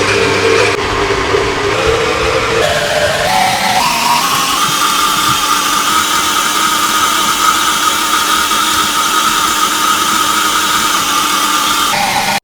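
Stand mixer kneading pork pie dough, running as a loud, steady motor whine that shifts pitch early on, then settles into a constant drone for the rest of the time with no talking.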